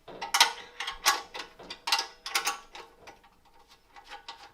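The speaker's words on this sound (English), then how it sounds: "you'll see 2 bolts here, which I'm going to remove. I need a spanner for that, and I believe it's a 14mm." Spanner working 14 mm bolts loose on a Hyundai HYFT60SP petrol grass trimmer, giving a series of close ratcheting clicks in short rhythmic bursts that fade quieter toward the end.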